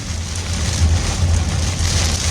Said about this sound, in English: This storm is just going crazy.